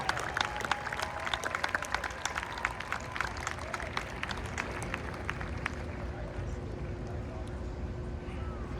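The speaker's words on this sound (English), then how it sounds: "Another round of applause" At an outdoor Ohio State University Marching Band concert, the audience gives quieter applause with crisp individual claps scattered over a murmuring crowd, thinning out toward the end.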